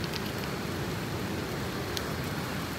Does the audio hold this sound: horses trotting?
no